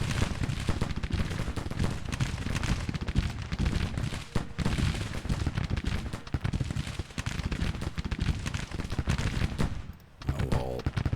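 Continuous musket volleys and gunfire roar through a Civil War video game battle, dense and unbroken for several seconds before a brief lull near the end.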